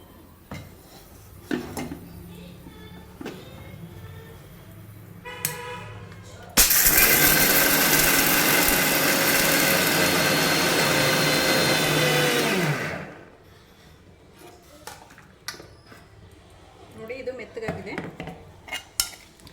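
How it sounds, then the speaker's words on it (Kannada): A mixer grinder roars loudly at close range for about six seconds as it grinds roasted peanuts for chutney, starting abruptly and cutting off sharply, with clinks and handling of the jar before and after. "ಇದನ್ನು ನಾವು ಗ್ರೈಂಡ್ ಮಾಡ್ಕೊಳ್ಳೋಣ"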